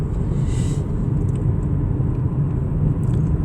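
A laundry truck drives along a winding road near Cradle Mountain, Tasmania, a steady low engine rumble heard from inside a moving vehicle, continuous and moderately loud with no talking.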